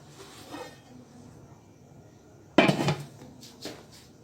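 A metal pan is picked up and set down in a home kitchen while ghee is heated for an Indian tadka. Near-silence gives way to a sudden, loud clatter and clank midway, then a fainter clink shortly after, with no talking.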